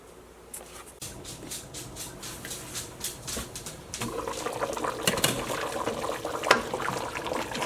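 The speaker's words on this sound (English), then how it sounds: "We're going to let it come back up to simmer, and simmer approximately" Beef stew simmers in a pot, a close, continuous bubbling and gurgling that grows busier and louder partway through, with no voices.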